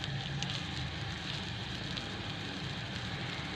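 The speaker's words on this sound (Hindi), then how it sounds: "हमारा तवा गर्म हो गया है। अब इसके ऊपर मैं ये वेजिटेबल और राइस का अमेज़ा डालूँगी।" Vegetable and rice batter cooks on a hot tawa griddle, a steady close sizzle and crackle hissing evenly throughout with no pauses.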